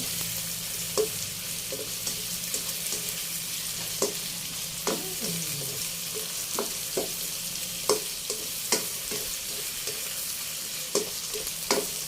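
Mixed vegetables with garlic and onion stir-frying in a pan: a continuous sizzle punctuated by regular light clinks and scrapes of a utensil, close and steady.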